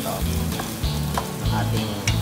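Beef steak strips for bistek sizzling and frying in a non-stick pan, with repeated scraping and tossing clatters over a steady loud hiss, close up and without talk.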